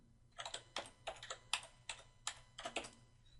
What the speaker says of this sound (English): Type in the IP address of the chassis and select OK.